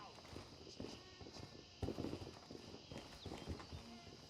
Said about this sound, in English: I hear them stomping around.